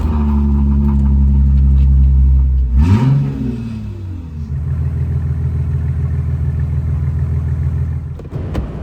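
A car's 3.2 V6 M112 engine rumbles at idle, briefly revs up with a rising whine around the third second, then settles back to a steady idle, close by.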